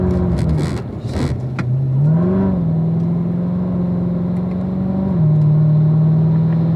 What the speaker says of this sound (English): Let's accelerate out of the corner.